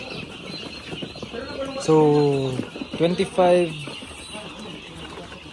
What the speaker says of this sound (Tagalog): ito yung itsura ng mga 1-month-old natin na sisiyo